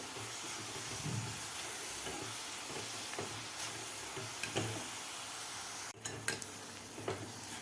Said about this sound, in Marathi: मिडियम गॅसवरच आपल्याला हे परतून घ्यायचं आहे